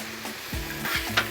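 An egg is poured into chopped kothu parotta with onion, curry leaves and coconut oil, giving a steady close sizzle of frying with a few stirring scrapes.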